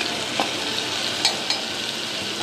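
Ginger and crushed green chillies fry in a pan with a bay leaf for a Bengali fig curry, giving a steady, close sizzle with light stirring scrapes and small pops throughout.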